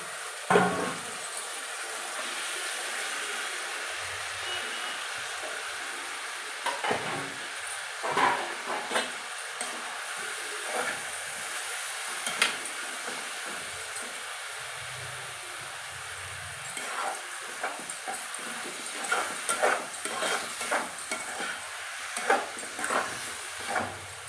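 Broad beans and tomatoes frying together in a pan, a soft continuous hiss and sizzle with scattered crackles and small pops, fairly quiet and close, with no talking.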